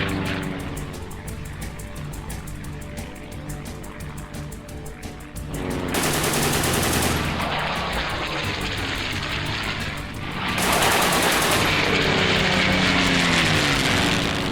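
Aircraft machine guns firing during an air battle in a war film, a steady roaring engine drone with dense rapid bursts of gunfire, loud and continuous.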